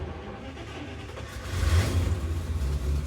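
An old Buick with a straight-eight engine turns over and catches, a low mechanical rumble that swells louder and rougher midway as the motor fires and keeps running close by.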